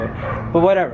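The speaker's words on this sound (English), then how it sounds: "Sorry about the barking" A dog barks and yips in the background while a person talks over it.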